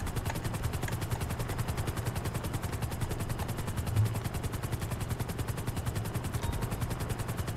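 Helicopter in Grand Theft Auto Online flies with a steady, loud, rapid rotor chop throughout and no break in the sound.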